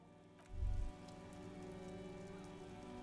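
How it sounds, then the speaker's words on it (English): Steady rain falling and dripping over the city of Revachol in Disco Elysium, a soft continuous patter with a brief low thump near the start, quiet and even throughout. "Rain drips from the eaves and floods the gutters, washing the filth away."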